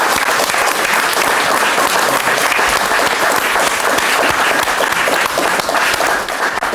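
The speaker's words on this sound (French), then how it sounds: "On peut l'applaudir." A studio audience applauding a chef's Romanian sarmale dish, dense sustained clapping from many hands, loud and close, filling the whole stretch without a break.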